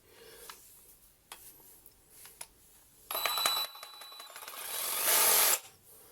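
Quiet clicks and handling noise, then a Parkside PASA 20-Li C2 cordless pruning saw whirs into a cut through wood in two bursts, the second louder and rasping.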